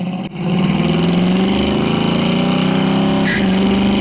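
A 1968 Chevrolet Camaro engine rumbles loud and close as the car pulls away on a road beside gravel, a steady low growl building in revs with a brief shift-like dip near the end.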